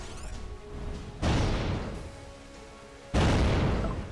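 Powerful spaceship cannon fire in the video game Holy Potatoes! We're in Space?!, two heavy booming shots about two seconds apart, each hitting hard and then decaying into a low rumble.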